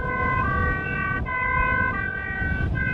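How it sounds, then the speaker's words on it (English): Wailing fire truck sirens at an airport, loud and fairly close, rising and falling in pitch over traffic rumble. "They even have their sirens on for the occasion."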